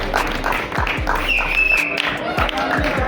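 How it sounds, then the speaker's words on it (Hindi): An audience claps steadily at a college B.Ed farewell event in Uttar Pradesh, with a continuous patter of hands and voices talking over it. "जोरदार तालियां होनी चाहिए."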